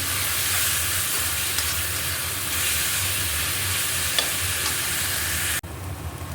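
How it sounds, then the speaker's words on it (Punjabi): Onions sizzle loudly in hot oil in a pan while being stirred for a drumstick vegetable curry, a dense continuous frying hiss with occasional scraping clicks that cuts off abruptly near the end, with no talking. "ਪਿਆਜ਼ ਨੂੰ ਚੰਗੀ ਤਰ੍ਹਾਂ ਹਿਲਾਵਾਂਗੇ"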